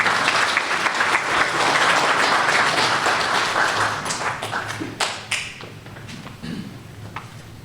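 Wedding reception guests clap warmly for the next speech, a dense burst of applause that thins into scattered claps and fades out.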